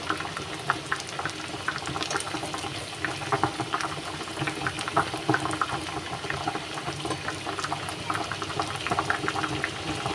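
A pot of hilsa fish curry with homegrown bottle gourd, green chillies and chopped coriander bubbling on the stove, a steady busy burble of boiling liquid, close and continuous, no talking.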